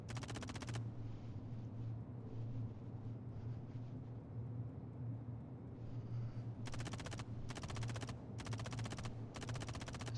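Repeated bursts of rapid gunfire during a bunker mission in the space game Star Citizen, several short volleys at a moderate distance over a steady low engine-like drone.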